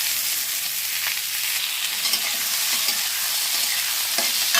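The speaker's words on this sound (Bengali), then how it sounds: "ভেজে এর মধ্যে এই ভেজিটেবলসগুলো ছেড়ে দেব। ছেড়ে ভালো করে ভেজে নেব।" Vegetables sizzle in hot oil with dried chili and mustard seeds, a bright, steady frying hiss with faint stirring taps throughout.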